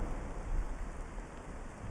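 Steady rain hisses from the Valheim game world, with a low rumble of thunder rolling underneath, close and continuous for the whole stretch.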